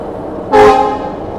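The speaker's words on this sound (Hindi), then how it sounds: "यहाँ सामने जो है पुरुषोत्तम एक्सप्रेस के रैक शेंट करे जा रहे हैं।" Purushottam Express rakes being shunted at Anand Vihar station give one short, loud horn blast of about half a second, close by, set against a low background rumble and no talk.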